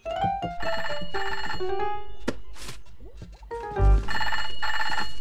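A cartoon telephone rings in bright electronic bursts, goes quiet while the handset is searched for with a clunk, then rings again loudly.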